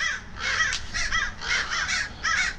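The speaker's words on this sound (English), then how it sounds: "I got damn crows flying around." Several crows caw repeatedly in bursts, fairly close and clear, over a low outdoor rumble with no talking.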